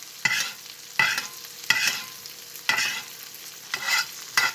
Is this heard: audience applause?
no